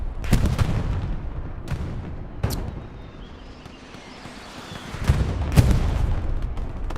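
Artillery fire in the World War II video game Hell Let Loose, with several heavy, sharp blasts spread through the clip and a rumbling bed of battle noise between them.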